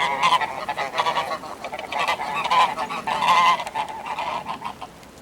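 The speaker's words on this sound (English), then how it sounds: "What kind of sound do geese make? I think we say honk." Geese honk repeatedly in the rain, a chorus of nasal calls rising and falling against a steady patter of rainfall, fairly close with no talking.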